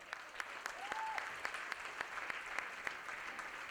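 Faint, sparse audience claps at an evening award function during a charity auction, spaced at a fairly even pace and sounding distant in a large room.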